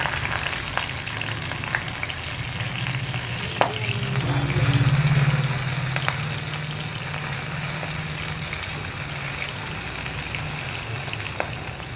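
Nigella seeds and two slit green chillies fry in a little hot oil in a kadai. The steady close sizzle and crackle run throughout, with occasional utensil taps and a brief low hum in the middle. No one speaks.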